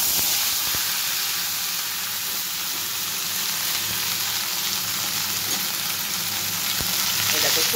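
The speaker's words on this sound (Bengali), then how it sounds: "এবার আমি সবজিগুলো ঢেলে দেবো।" Mixed vegetables, including banana stem, tipped into hot oil tempered with radhuni and frying, a loud continuous sizzle with a few sharp stirring clicks and no talking.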